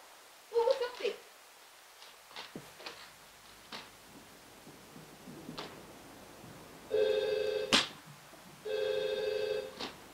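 A mobile phone rings in a waiting room with two short bursts of electronic tone, separated by a pause, while people talk and move nearby.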